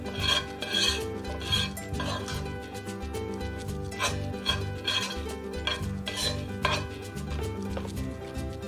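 Farofa stirred in an iron pan on an induction hob, a spoon scraping and clattering against the metal in a steady busy rhythm, close and fairly loud with no talk.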